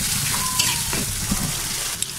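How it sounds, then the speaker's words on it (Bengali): Spices such as chili, garam masala, cumin and salt fry in a hot pan for an okra and egg dish, giving a steady close sizzle with no talking. "এগুলো একটু ভেজে নেব"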